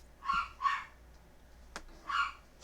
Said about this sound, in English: There must be a dog walking by.